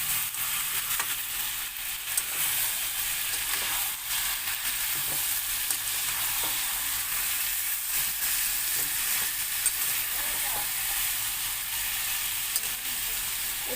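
Chicken frying on high flame in a pan, a loud, continuous hissing sizzle with occasional small pops and stirring sounds, close and unbroken throughout.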